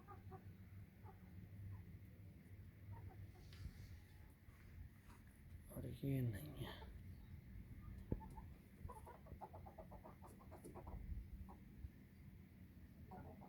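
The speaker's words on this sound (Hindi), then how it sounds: "ये माशाल्लाह तीन मुर्गियाँ बड़ी हैं और एक मुर्गा" Hens and a rooster cluck faintly around a poultry coop, a brief louder call standing out midway, while someone speaks over them throughout.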